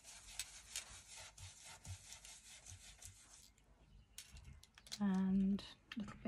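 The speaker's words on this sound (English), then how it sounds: "just rub them round on the stencil" A brush rubbed round on a craft stencil, a soft, close scratchy rasp of repeated strokes that fades into quieter scuffs, followed by a brief hummed tone near the end.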